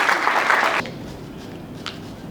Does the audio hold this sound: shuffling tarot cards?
no